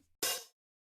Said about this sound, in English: with the open hat here